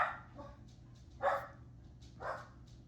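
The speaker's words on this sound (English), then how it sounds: "Sorry about my little dog." A small dog barks in three short separate bursts, heard at moderate distance indoors over a low steady hum, with no one speaking.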